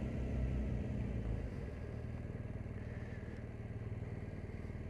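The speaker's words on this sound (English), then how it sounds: "I've realised the engine sounds great because I've only got one earplug in." BMW R1200 GS Adventure motorcycle engine, a low, steady rumbling pulse heard from the rider's position, fairly quiet and continuous throughout with no talking.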